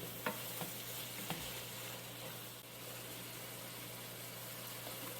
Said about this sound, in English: after adding the white wine, she says to let that simmer for a few minutes